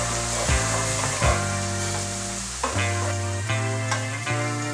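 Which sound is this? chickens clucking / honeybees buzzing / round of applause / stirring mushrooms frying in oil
stirring mushrooms frying in oil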